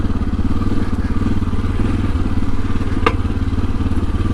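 A Suzuki DR650 motorcycle thumps steadily off-road on a loose, rocky trail, and near the end a rock strikes its skid plate with one sharp, brief knock over the engine.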